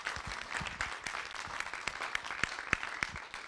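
An audience applauds Sarah at a panel event, with many overlapping claps forming a steady wash and a few sharper individual claps standing out nearby.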